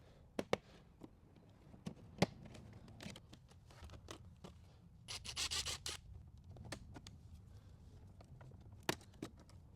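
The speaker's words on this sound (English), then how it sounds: "Go ahead and pop this panel out." A plastic interior trim panel on a Hyundai Elantra being pried loose, with sharp clicks and snaps of the clips releasing, scattered among quieter rubbing and scraping, faint and close, no voices.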